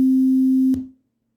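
A pure 16 Hz sine tone, the low C0 note, plays as a steady, loud hum for under a second, then cuts off abruptly and fades into silence, with no voice present.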